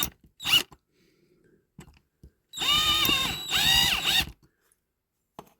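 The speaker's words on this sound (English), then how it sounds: "We'll drill that out maybe. I don't know if this drill's big enough." A small power drill bores into the windscreen of a 1966 diecast Matchbox Ford refuse lorry in two loud whining bursts of about a second each, separated by a brief pause, with quiet handling clicks before and after.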